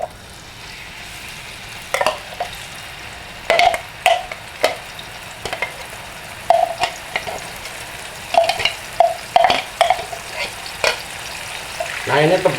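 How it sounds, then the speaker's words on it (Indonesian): Spice paste for a spicy coconut-milk fish curry sizzles in hot oil in a pan, with a soft steady frying hiss broken by repeated sharp scraping stirs of a spatula, close and clear with no talking. "Sekarang kita tumis bumbunya."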